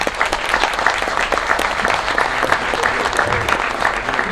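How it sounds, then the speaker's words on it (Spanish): Strong, steady applause from an audience at a talk as a guest aviator comes forward, dense overlapping claps filling the whole stretch without a break. "Pido para todos un fuerte aplauso."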